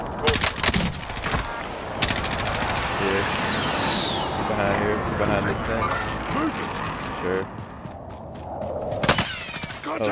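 Call of Duty Warzone gunfire, a dense exchange of rapid automatic shots and sharp single cracks running through the whole clip, with talk over it.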